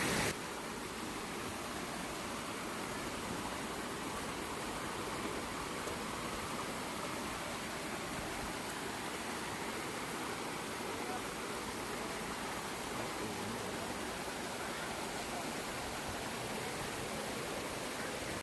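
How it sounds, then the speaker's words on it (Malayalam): A waterfall deep in a remote forest produces a constant broadband roar of falling water, steady and enveloping throughout, with no clear speech. "ഇതാട്ടോ വാട്ടർഫോൾസ്"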